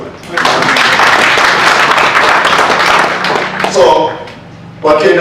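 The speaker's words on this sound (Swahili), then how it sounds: "So mwapatie makofi." An audience at a Kenyan law court gathering applauds in a sustained round of clapping lasting several seconds, then fades, followed by brief speech.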